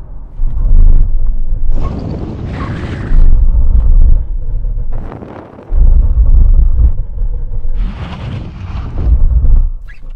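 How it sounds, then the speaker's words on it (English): Audi RS6 and Lamborghini Urus performing full emergency stops from 70 mph, loud rumbling road and wind noise with surging bursts of braking and tyre roar, close and continuous with no talk. "So when we reach line, full emergency stop from 70 miles an hour"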